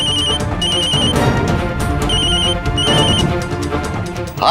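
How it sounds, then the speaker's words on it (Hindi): A telephone rings in a loud, repeated electronic trill, its bursts recurring over a dense dramatic music bed. "मैं अभी तुम्हारे पापा को फोन करके कहता हूँ"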